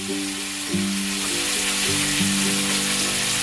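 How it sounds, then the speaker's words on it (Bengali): Hog plum (amra) pieces frying in a pan, a dense continuous sizzle with some low tonal hum running beneath, steady and close, no talking. "জল ঝরানোটা দিয়ে আমড়াটাও কিছুক্ষণ ভেজে নেব"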